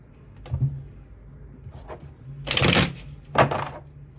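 Tarot cards shuffled and drawn close up, with several quick papery riffles and slaps, the loudest burst near the end, in a quiet room.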